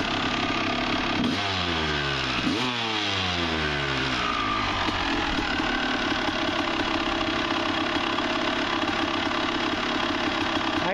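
A rebuilt 1999 Honda CR250 two-stroke motocross bike runs steadily close up, with two sharp revs early on before it settles into a loud, continuous idle with a buzzy edge.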